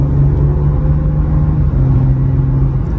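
The six-cylinder engine of a BMW M2 Competition pulls hard at speed from inside the cabin, a loud, sustained low drone with a steady tone and a brief dip partway through.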